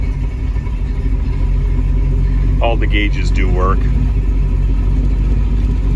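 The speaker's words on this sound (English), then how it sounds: "Did not press the gas and the car started." A 1967 Mustang Fastback with a 428 Cobra Jet V8 idles close by, a loud, steady low rumble throughout with someone briefly speaking over it.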